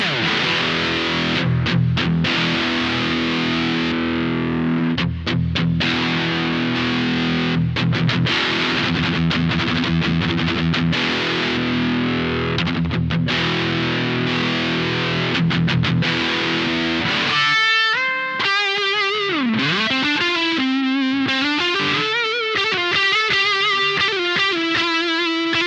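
An electric guitar runs through Valeton BD-10 and DS-10 distortion pedals stacked together, first in dense, heavily driven chugging chords with choppy stops, then bending sustained lead notes for the last stretch, with no talk.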